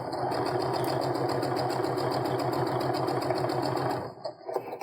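A sewing machine stitches quilt pieces together along a quarter-inch seam, running as a steady rapid mechanical patter for about four seconds before stopping, followed by faint handling noises.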